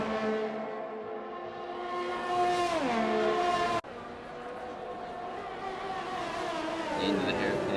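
Formula 1 racing game cars at the Chinese Grand Prix, engines whining and accelerating hard, pitch climbing and dropping with gear changes, loud and continuous with a commentator's voice over them.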